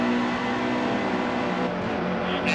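NASCAR Cup Series race car engines in the video game NASCAR Heat 2, a steady droning roar of several engines at sustained high revs, loud and continuous with no talk.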